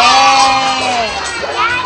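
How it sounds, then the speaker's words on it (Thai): A group of kindergarten children shouting and cheering together, loud and close, in a bright chorus of voices that tapers off after about a second and then swells briefly again. "ขอเสียงปรบมือหน่อย"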